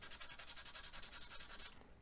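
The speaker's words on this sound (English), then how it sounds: "So I'm gonna sand this up." Sandpaper, starting at 600 grit, rubbed across a die-cast Hot Wheels Toreno Stocker body, giving a close, steady rhythmic scratching of quick back-and-forth strokes that fades out near the end.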